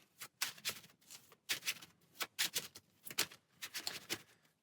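A deck of cards is shuffled during a Spider-Man and Venom card game scenario against Zola: several close, crisp riffling bursts in quick succession with short pauses between, and no talk.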